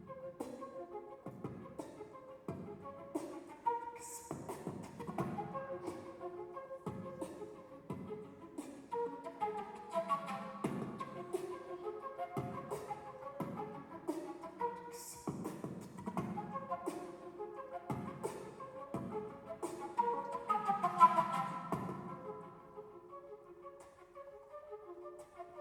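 Flute played with beatboxing, a busy percussive lick built on the syllables "boots, cats, barbecue": breathy pitched notes over punchy vocal kick and snare hits in a steady groove, close and moderately loud, with no talking.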